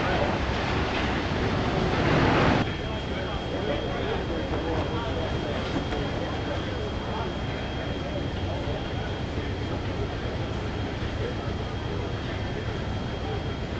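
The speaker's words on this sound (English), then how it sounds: "We inject water into the shredding chamber to keep things cool. Metal being ripped apart." A car shredder at a metal recycling plant ripping metal apart while water is injected into the shredding chamber, a loud continuous roaring rumble and grinding with a brief harder burst early on, constant throughout.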